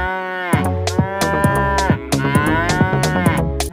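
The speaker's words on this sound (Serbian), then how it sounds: "sklanjaj te krave odatle, jao, ne može da se snima od njih" Several cows mooing in a field, loud and close, with long overlapping low bellows repeating back to back and nearly filling the whole stretch.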